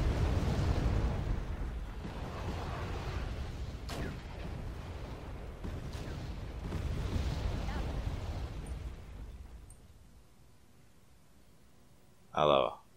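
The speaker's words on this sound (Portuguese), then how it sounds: "Os caras estão lançando granada" Infantry grenade explosions in Wargame: European Escalation, a rumbling battlefield with several muffled blasts that fade to quiet, followed by a short spoken burst at the end.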